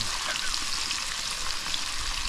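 Crab frying in a pan on an Andaman island gives a steady, dense, close sizzle that holds at an even level throughout, with no talk over it.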